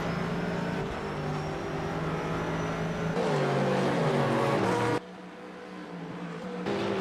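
GT3 race cars, including a Porsche, racing at Donington Park National in a racing game, with steady engine drone rising into revving and gear changes before an abrupt cut to another car's engine.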